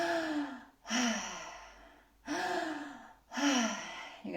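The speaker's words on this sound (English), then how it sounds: "you're going to open your mouth and breathe in like," Deep breaths drawn in through an open mouth during a guided breathing ceremony, three long, loud, close gasping inhales, each followed by a pause.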